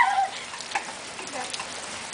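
Steady rain patters down as a dense hiss with scattered drops ticking on a surface, continuous and close for a couple of seconds.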